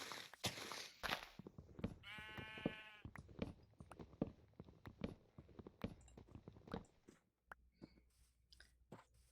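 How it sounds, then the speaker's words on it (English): Sheep in Minecraft bleating and clopping past like horses, a burst of rapid bleats among scattered footstep clicks and taps, all fairly faint and dry. "All the sheep sound like horses when they're walking by, and I don't know why."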